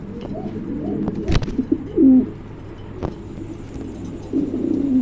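Pigeons for sale cooing close by in low, rolling calls, with a sharp knock or two and faint background traffic between the coos.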